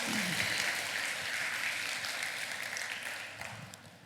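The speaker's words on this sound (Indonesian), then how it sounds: "Berikan tepuk tangannya buat Tuhan Yesus" A church congregation claps steadily through a continuous wash of applause, dense and broadband, easing off slightly toward the end with a few scattered louder claps.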